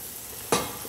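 Rice cooking in a hot pan: near-quiet at first, then a sudden loud sizzling burst about halfway through that settles into a steady hiss.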